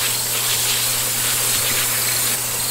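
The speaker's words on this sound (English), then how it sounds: "And then I'll put my spray on and then we're done." Steady hissing spray from a pump sprayer misting pest-prevention solution onto a vertical tower garden of cabbage plants, continuous and close for a few seconds with no talk, over a faint low hum.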